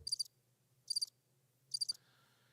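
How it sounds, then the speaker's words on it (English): A played recording of crickets chirping, three evenly spaced short trilling bursts over a faint low background hum. "Whoops, where's my crickets?"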